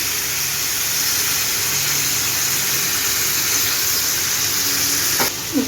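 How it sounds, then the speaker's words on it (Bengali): Mutton being sautéed in a pan for a Bengali curry, a dense continuous sizzle that holds steady and close for several seconds before a brief clatter near the end, with no talking. "মাংসটা দিয়ে ভালো করে কষাবো"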